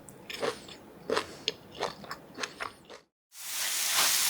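Crisp bites and crunchy chewing of stir-fried shishito peppers with anchovies, about six distinct crunches close to the ear, followed by a short silence and a burst of hissing noise.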